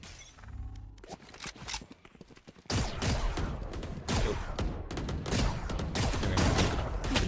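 Rapid gunfire crackles through a competitive 2v2 shooter match, dense repeated shots layered over constant game noise, with one sharp burst standing out partway through.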